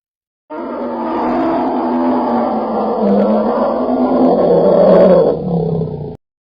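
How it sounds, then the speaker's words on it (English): A loud, sustained bear roar in a horror setting, a deep growling bellow that rises and swells for about six seconds before cutting off abruptly, heard alone with no talk. "And then, a roar."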